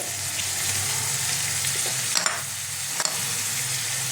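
Spices for a Bhola-style fish masala curry sizzle steadily in a pan, with Kashmiri chilli powder and kasuri methi, while a utensil scrapes and stirs through the mix, two sharper clinks standing out near the end.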